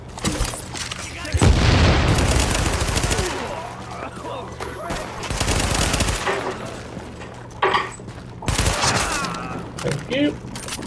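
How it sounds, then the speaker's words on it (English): Gunfire in Tom Clancy's The Division on PC: loud bursts of automatic shooting with booming reports, separated by gaps and followed by shorter volleys, while people talk over the action. "Are you just randomly shooting?"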